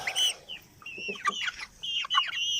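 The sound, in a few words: rooster (stag) and pullets clucking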